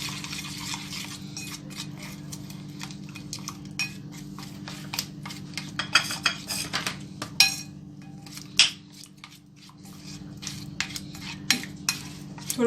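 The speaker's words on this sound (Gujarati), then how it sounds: "અને બરાબર હલાવી લઈશું." A spoon stirs shikakai powder into a homemade soap mixture in a bowl, giving continuous scraping and swishing with scattered clinks of metal against the container, close up, without talk.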